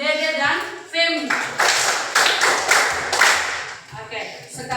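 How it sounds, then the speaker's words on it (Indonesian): Students clap in a classroom, a short burst of hand claps heard close, mixed with speech and voices throughout. "tepuk tangan untuk Dede dan Femi"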